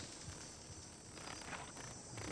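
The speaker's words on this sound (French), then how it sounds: "connaissez-vous nos cigales guyanaises? Certaines d'entre elles chantent comme une scie circulaire." A faint, continuous high-pitched drone of French Guiana rainforest cicadas, steady and unbroken, with a soft buzzing wash of other insects underneath.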